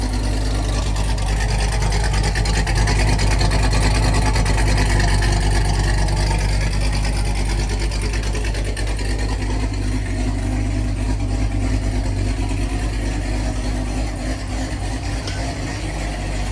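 A heavily modified Corvette ZR1 engine making about 1,020 horsepower runs with a loud, steady, deep rumble that barely changes from start to finish, close and alone with no talking.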